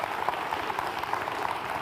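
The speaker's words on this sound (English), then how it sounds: "Let's give a round of applause." Seminar attendees give a speaker an even, moderately loud round of applause that patters steadily without a break, with no talking heard over it.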